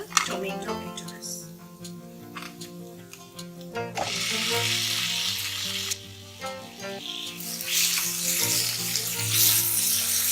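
Tomato goes into roasted masala in a pan for a green peas coconut kurma and starts to sizzle. Loud frying hiss swells in bursts, with clatter and stirring, and a voice talks briefly at first.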